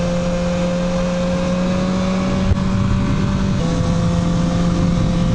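BMW S1000R motorcycle engine held at a steady drone with strong constant tones, a brief blip partway through then a slight pitch change, loud and close without speech.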